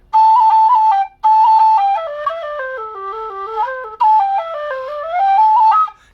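Alto G whistle made by dudukoid, played alone as a clear melodic phrase of stepwise notes with short breaks, bright and close with strong overtones.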